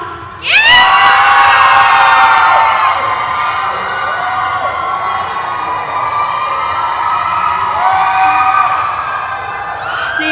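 A large crowd of fans at a Billlie fan-signing event in Bangkok erupts in loud, high-pitched screaming and cheering that stays intense and sustained for several seconds.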